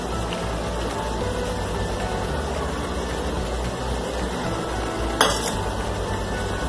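Onions go into a hot pan and are stirred for chappli kabab, giving a steady sizzle and scraping with a sharp clatter of utensil against the pan near the end, close and fairly loud.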